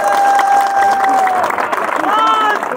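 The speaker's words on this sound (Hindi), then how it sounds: "ताहा के लिए तालियां।" Crowd at an outdoor political rally in Pahalwan Goth, Karachi claps and cheers loudly and continuously, with a voice carrying over the noise.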